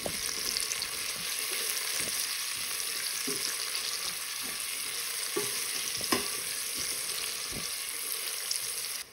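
Finely chopped green onion frying in a pan for lentil soup, a steady close sizzle with soft scraping and clacks of stirring at irregular moments, no voices.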